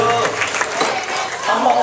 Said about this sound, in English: Let's keep your applause going, parents of the bride.